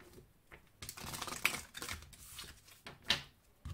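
Tarot deck being cut by hand: soft, quick card shuffles and light taps, close and faint with a few crisp flicks, in a quiet room without speech.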